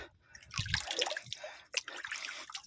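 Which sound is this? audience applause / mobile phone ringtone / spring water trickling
spring water trickling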